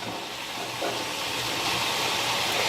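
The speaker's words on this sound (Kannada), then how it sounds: "ನೀವು ಮುಳುಗೋಷ್ಟು ಎಣ್ಣೆ ಹಾಕಿದ್ರೆ ಅವೇ ಫ್ರೈ ಆಗ್ತಾವೆ ರೀ." Beetroot chips deep fry in oil deep enough to submerge them, a steady dense sizzling hiss that holds close and constant and swells slightly, with no talking.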